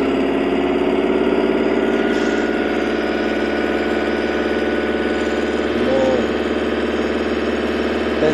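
Toyota van engine running during an engine oil treatment, a steady near idle drone with continuous low hum and mild vibration, level throughout with only a slight swell near the end.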